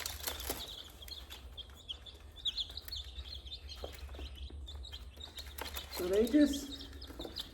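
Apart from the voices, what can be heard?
chickens clucking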